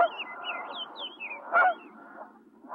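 Geese honk repeatedly during autumn migration, a chorus of overlapping nasal calls at moderate distance with a few louder honks standing out, and no voices over it.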